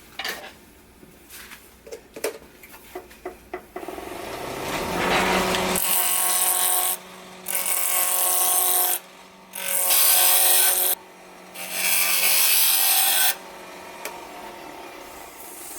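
An oak block for a whiskey tasting cup is handled and tapped with a few knocks. Then a wood lathe spins up and cuts it in loud, close bursts of tool-on-wood scraping, broken by short pauses.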